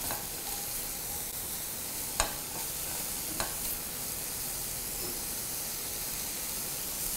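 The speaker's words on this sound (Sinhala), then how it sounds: "සුදු ලුණු ටික දාලා මේ කපාගත්ත වැටකොළු ටික දාලා පොඩ්ඩක් ඒක තෙලෙන් පොඩ්ඩක් තැම්බෙන්න දෙන්න ඕනේ" Garlic and chopped ridge gourd fry in oil in a pan, giving a steady low sizzle and hiss, broken by a couple of sharp clicks from stirring.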